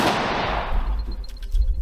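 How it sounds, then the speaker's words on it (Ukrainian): A firecracker goes off with a sharp, loud bang that rings out and decays into a long hissing, crackling tail, with no talking over it. "Петарда тут"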